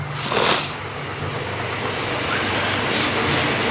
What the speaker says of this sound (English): Just got a train going past